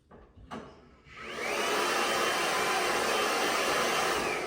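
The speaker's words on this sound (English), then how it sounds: "your blow dryer automatically turns on" After a faint click, a blow dryer whirs on and keeps running as a steady, loud airy roar.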